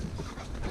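An old dog panting in a yard, quick soft breaths heard close and fairly faint in one very brief burst.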